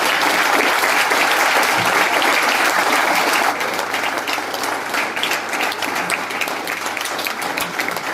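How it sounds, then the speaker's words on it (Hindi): Sustained audience applause at a motivational speech event, a steady wash of many hands clapping, loud at first and easing slightly after about three seconds but continuing throughout. "डियर फ्रेंड्स, तालियां बजती रहनी चाहिए।"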